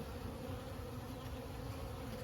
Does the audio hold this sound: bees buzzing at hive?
yes